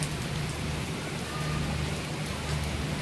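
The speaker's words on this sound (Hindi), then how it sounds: "अब बारिश हो रही है" Steady monsoon rain falling in India, a dense even hiss of drops pattering on surfaces throughout, close and continuous with no voices.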